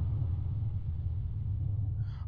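Low, continuous thunder rumble from a thunderstorm in Minecraft rolls steadily throughout, deep and heavy, with a faint higher shimmer near the end.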